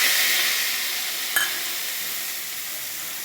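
Spice paste mixed in water poured into a hot pan, a loud broad sizzle that starts strong and slowly eases, with one brief clink partway through and no voices.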